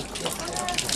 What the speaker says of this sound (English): You wash your hand.